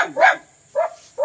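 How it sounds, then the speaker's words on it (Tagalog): A dog barks at night in three short, close barks, slightly whiny and yelping, with brief silences between them. "Dalawa pala yung aso dito."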